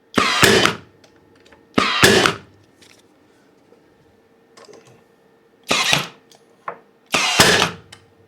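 A Ridgid 16 gauge finish nailer fires four times with punchy, booming pops in two pairs, each shot followed by a brief mechanical click in an otherwise quiet room.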